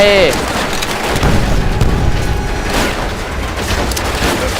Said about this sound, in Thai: เอาระเบิดมันคืนไป